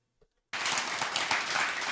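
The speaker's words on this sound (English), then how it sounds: "Half of that clapping is from like the enthusiastic crew." An audience breaks into applause abruptly after near silence, steady dense clapping from a crowd that includes an enthusiastic crew, sustained and fairly close.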